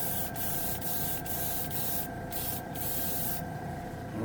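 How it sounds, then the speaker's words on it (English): An air compressor hums steadily while an airbrush sprays Tamiya paint, giving a constant close hiss broken by short gaps as the trigger is released, with no talking. "That's why you hear the compressor running."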